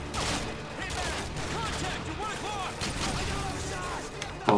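Grenade blasts and gunfire from the Call of Duty MW2 game make a dense, rumbling burst of combat noise, and a player's voice talks over it.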